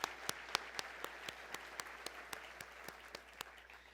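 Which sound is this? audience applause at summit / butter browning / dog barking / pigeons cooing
audience applause at summit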